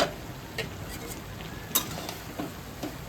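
A chicken and soybean curry being stirred in a pan, with a low simmering bubble throughout and a few soft scrapes of the spoon, one sharper clink near the middle; quiet and close, with no talking.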